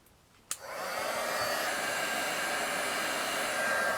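A hair dryer clicks on and blows a steady, loud, airy whoosh at close range to dry a miniature garden brick wall, running on continuously with no voices.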